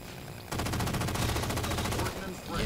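A SAW machine gun firing in Halo 4, a dense, fast stream of automatic shots starting abruptly and running for about two seconds, loud and close, with a voice heard at points.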